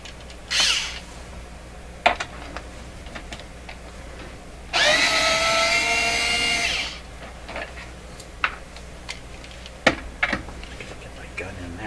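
A power screw gun whirs for about two seconds, removing screws from the chassis of an Electrohome Serenader 9A62-S radio, set among scattered close clicks and clunks of handling on a quiet workbench.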